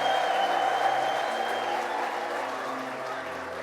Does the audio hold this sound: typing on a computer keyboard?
no